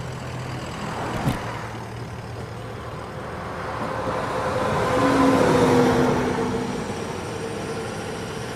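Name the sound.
tractor truck driving past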